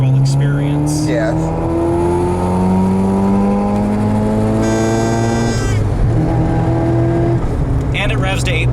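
Mazda RX-7 FC with a 1.3-litre rotary engine revving hard, rising in sweeping climbs and dropping back as gears change, loud and close, with talk briefly over it.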